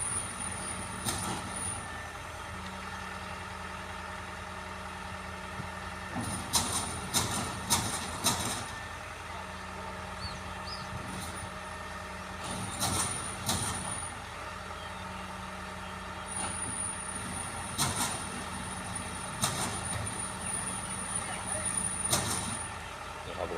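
Steady mechanical running noise with a faint whine and rhythmic rattling bursts, a drive belt and bearings turning, fairly close, no talking.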